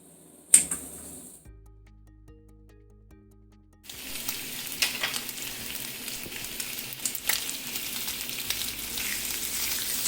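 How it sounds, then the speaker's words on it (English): Bacon frying in a pan, a steady dense sizzle and crackle that starts abruptly after a quiet opening with a sharp click, then crackles on close and constant for the rest of the clip. "I'm going to cook the bacon first, and then I'm going to use the grease from the bacon to make my eggs."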